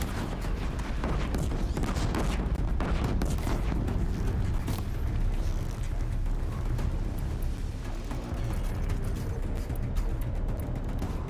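Sticky bombs explode in the video game Horizon Zero Dawn in a loud, continuous barrage of booming blasts and dense rumbling crackle that never lets up.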